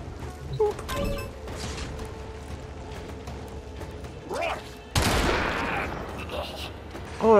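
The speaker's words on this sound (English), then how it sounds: "Gunfire sounds off in the distance." Video game gunfire with mechanical clicks and ratcheting, then a sudden loud burst of shots near the end.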